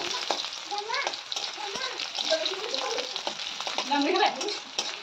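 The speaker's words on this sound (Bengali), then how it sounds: "এরপর কড়াইতে আবার সর্ষের তেল দিলাম, তেলটা গরম হয়ে গেছে। এরপর আমি পেঁয়াজগুলো ভেজে নেব।" Onions fry in hot mustard oil in a wok, giving a steady, moderately loud sizzle that runs throughout with a few soft stirring clinks.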